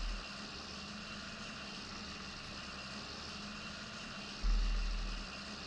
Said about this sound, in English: Love the purr of the engine.